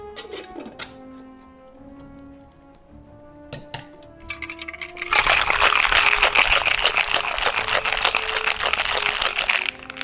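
A cocktail shaker rattles ice for a potion cocktail, a loud rapid rhythmic shaking that begins halfway through after a few clinks and light handling, continuing to the end.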